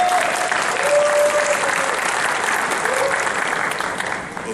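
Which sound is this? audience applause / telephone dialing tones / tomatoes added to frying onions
audience applause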